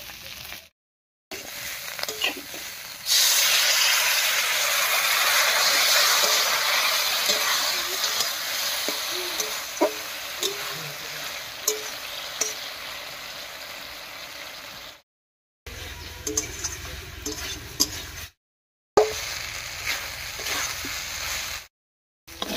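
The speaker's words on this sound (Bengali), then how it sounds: "মশলা বাটা জল দিয়ে খুব ভালো করে কষিয়ে নিয়েছি" Rice sautéing in a pan with ground spice paste and water: a loud, steady sizzle with stirring scrapes runs for a long stretch, broken by a few brief silent gaps.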